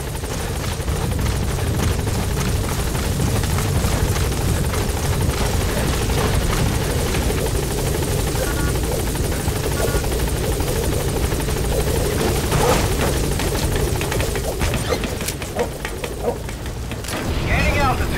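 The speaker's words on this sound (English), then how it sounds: "Support helicopter has arrived." A video game support helicopter arrives, its steady rotor roar filling the scene, loud and continuous, with booms and bursts of gunfire mixed in and a voice speaking over it.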